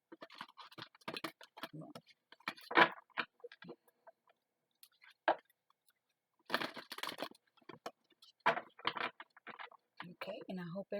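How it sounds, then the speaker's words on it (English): Tarot cards being shuffled by hand: soft, close riffles and patters in irregular bursts with pauses between, faint and dry. "let's shuffle them"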